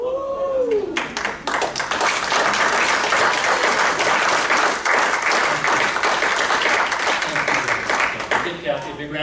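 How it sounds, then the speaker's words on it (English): Audience at a magic show applauding steadily for about nine seconds, a dense wash of clapping with cheers and voices mixed in, a brief whoop near the start. "Give Kathy a big round of applause and all of our volunteers."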